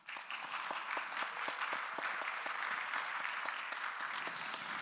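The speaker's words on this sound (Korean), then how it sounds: "그래서 우리 이 두 형제 자매, 정수연 자매, 조혁진 형제를 위해서 함께 박수로 환영하겠습니다." A church youth service congregation claps together in sustained applause, a dense patter of hands at moderate distance that continues steadily throughout.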